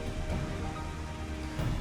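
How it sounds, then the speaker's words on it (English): Steady rain falls in Final Fantasy XIV, a continuous soft hiss of drops with faint low rumbling beneath, quiet and unbroken. "It started to rain."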